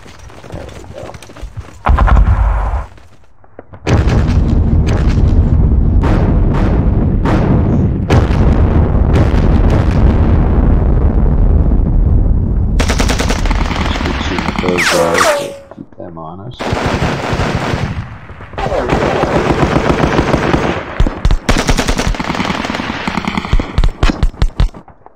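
Dense, sustained bursts of wartime gunfire and artillery from John Tiller's Sealion '40 strategy wargame, loud rapid volleys running almost continuously with brief pauses, no talking over them.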